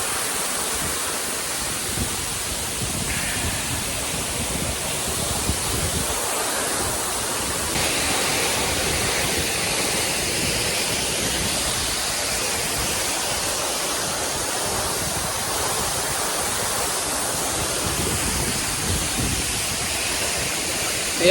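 Kuruwita's hidden waterfall, Sudagala Ella (Karu Ella) in Sri Lanka, roars close and loud in a constant dense rush of falling water that holds steady throughout with no voices.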